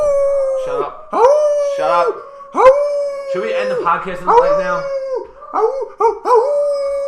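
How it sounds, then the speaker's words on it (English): A dog howls repeatedly in long, wavering, rising and falling cries close by, mixed with a few yips, while people talk and exclaim over it. "That's a dog."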